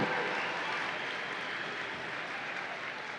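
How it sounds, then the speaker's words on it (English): Family members at a 2023 awards ceremony receive audience applause, a steady wash of clapping that is fairly quiet and distant and holds evenly throughout. "how about a round of applause for the family members who helped get you here today?"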